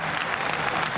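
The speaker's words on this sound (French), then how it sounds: "le public lensois applaudit les Monégasques surpris à leur entrée sur le terrain pour l'échauffement" Football supporters at Bollaert stadium in Lens applaud the Monaco players as they come out for the warm-up, a brief, dense wash of distant crowd clapping.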